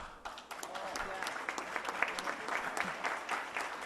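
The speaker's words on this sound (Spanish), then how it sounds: "Fuerte aplauso, gracias." Listeners at a professional conference in Oaxaca give a round of applause after a keynote lecture, fairly quiet scattered clapping with distinct individual claps and some talk underneath.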